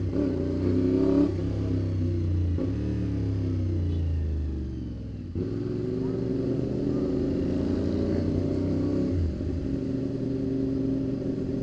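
A motorcycle engine revs and rumbles steadily up close, its low throb shifting pitch as the throttle changes, loud and continuous throughout.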